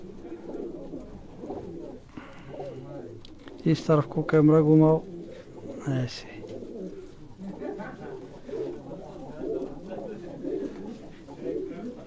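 Caged pigeons, all females of a Sialkot breed, coo softly throughout, with a louder burst of cooing near the middle and people talking nearby.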